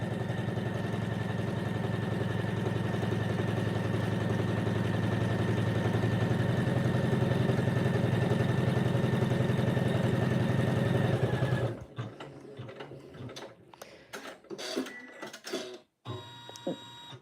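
A sewing machine stitches a triangle piece of a quilt block, running as a steady, loud mechanical hum for about twelve seconds before stopping, followed by quieter scattered handling noises.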